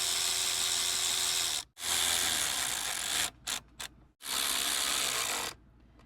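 A power ratchet drives bolts tight on Lumen8 illuminated grab handles in a Ford Bronco. Loud whirring runs of a second or two are broken by brief pauses and a few short blips.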